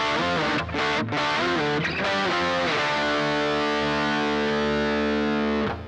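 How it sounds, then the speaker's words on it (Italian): Distorted electric guitar replays a song intro, chords ringing loud and continuous with a few brief cuts early on, ending in a long sustained chord that fades out. "Poi viene risuonata la parte dell'intro, questa volta con la distorsione"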